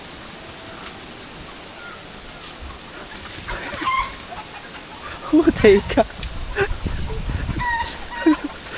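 Chickens clucking in a rural yard in the Philippines, scattered short clucks and squawks that grow louder and more frequent in the second half, with people talking nearby and faint background noise.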